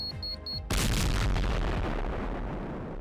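An explosion sound effect in a Roblox SCP-096 horror story: a few short high beeps are cut off by one sudden, loud boom that rolls on and slowly fades.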